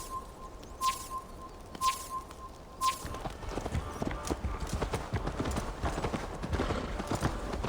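Horse hooves clip-clop in the Assassin's Creed Valhalla video game, starting as a few spaced thuds under ringing chimes and then building into a quick, rhythmic trot that continues steadily to the end.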